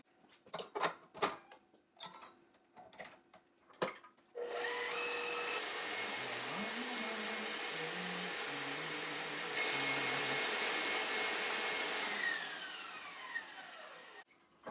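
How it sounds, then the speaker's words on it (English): Egg yolks and half a cup of sugar are whisked together, likely with an electric mixer, for a French Laundry recipe. A few light taps and clatter come first, then a loud, steady motor whir runs unbroken for about ten seconds before tapering. "We're going to mix those together, and we're going to whisk them."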